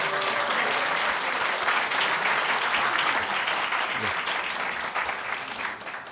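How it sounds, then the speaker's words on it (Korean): A church congregation claps steadily in welcome during a worship service, a dense, sustained round of applause that fades slightly toward the end. "우리 박수로 환영하겠습니다."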